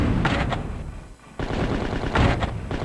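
Machine-gun fire rattles in the Dreamcast shooter Slave Zero, two loud sustained bursts of rapid shots separated by a short lull, close and dense.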